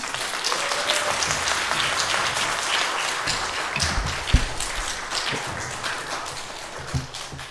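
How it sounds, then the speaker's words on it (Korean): A church congregation at a Sunday morning worship service applauds to welcome a retired guest pastor, a steady wash of many hands clapping that holds across the whole stretch with a few sharper claps standing out, and no one speaking. "목사님 박수로 좀 맞아주시면 좋겠습니다"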